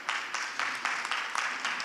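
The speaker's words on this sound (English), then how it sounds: "Let's give them a round of applause." Sparse applause from an audience at an energy industry conference presentation, a handful of separate clap bursts at moderate distance, fairly faint and with no speech over it.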